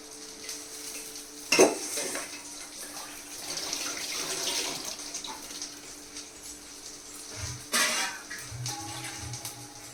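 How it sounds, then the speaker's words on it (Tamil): Tamarind water and paste are poured into a frying pan: liquid splashes and gurgles amid clinks of metal utensils and cookware, with two louder knocks, close and moderately quiet. "அது நம்ம வந்து இந்த தண்ணி இந்த விழுதெல்லாம் வச்சு இந்த வடச்சட்டியில் ஊற்றிடலாம்"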